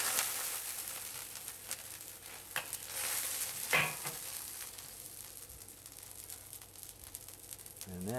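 Ground pork fries and sizzles steadily in a pan while a utensil breaks it up, giving a few scraping knocks against the pan under a continuous crackle, with a brief voice near the end.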